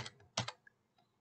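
A few sharp keyboard keystrokes on a computer keyboard while entering code for PLC programming, one quick burst then a close double tap, with a faint click after a pause.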